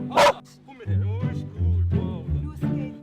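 A dog barks in a Swiss town near the German border: one sharp, loud bark close by, followed by several whining, yipping vocal sounds.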